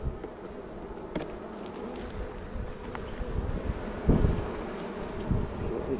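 Honeybees buzz loudly and close during a hive inspection, a dense continuous drone with a few louder passes of individual bees and some wind noise, with no talking.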